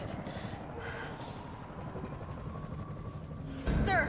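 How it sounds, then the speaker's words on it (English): Helicopter rotor drone in Resident Evil 3 Remake, a steady low throbbing wash running throughout, with a louder burst of noise near the end. "There's a helicopter waiting to take you to safety."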